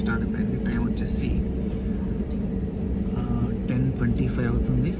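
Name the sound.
passenger airplane engine during takeoff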